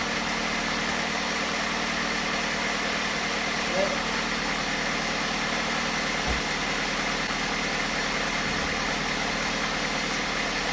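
A 2008 Jeep engine idles after an alternator replacement, a steady, even drone with a constant low hum and faint vibration throughout, fairly near and unchanging.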